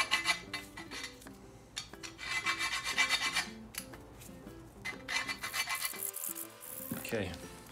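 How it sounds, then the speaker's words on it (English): Metal file rasping on a John Deere plow part, rhythmic back-and-forth strokes in bursts, close and fairly loud, with a brief pause and clatter near the end. "Just a little more filing."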